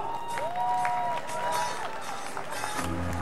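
Spectators clap steadily at the start area of a 5 km running race, a dense close wash of applause mixed with crowd murmur and a few brief whistling tones.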